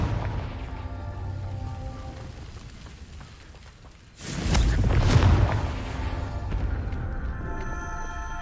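A Confringo explosive spell from Hogwarts Legacy detonates with a heavy, booming blast about midway, loud and broadband, ringing out over a low game ambience.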